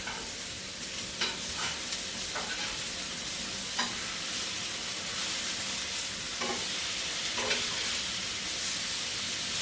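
Hen pieces pan roasting in a hot pan, a loud steady sizzle with occasional clicks of the food being turned, and no talking.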